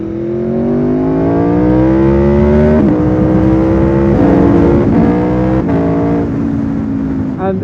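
An Italian motorbike engine roars while riding, loud and close, revving up through the gears with rising pitch and sharp shifts, wind noise underneath.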